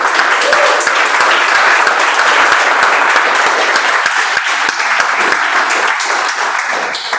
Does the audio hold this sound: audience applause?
yes